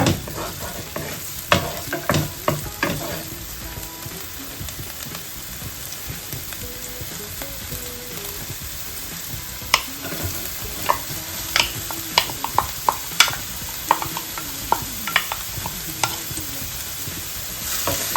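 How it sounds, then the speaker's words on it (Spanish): Garlic sautéing in a frying pan for a creamy chicken and mushroom pasta, a steady close sizzle broken by frequent sharp scrapes and clicks of a utensil stirring, with no talking. "Los ajitos. Sofreímos un poquito."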